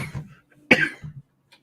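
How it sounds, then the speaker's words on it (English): A single sharp cough close to the microphone, preceded and followed by a few brief throat sounds, then silence. "Not loving that cough of yours, dude."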